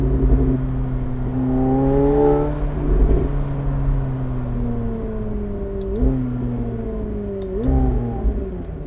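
A McLaren 750S Spider supercar engine revs repeatedly, its pitch climbing and dropping through several gear changes, a loud nearby roar heard alone.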